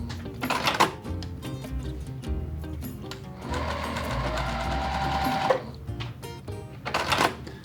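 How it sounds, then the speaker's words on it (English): A sewing machine stitches a quarter-inch seam on quilt fabric, its rapid mechanical whir running steadily close by, with brief stops and restarts and a longer sustained burst in the middle. "you're going to sew a 1/4 inch seam on both sides of that diagonal line"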